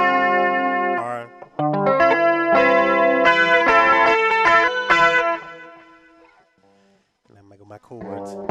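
Electric guitar chords played through a Boss GT1 effects processor on a retro preset, ringing out with a chorus-like effected tone, then fading to near silence before a few more strummed notes return.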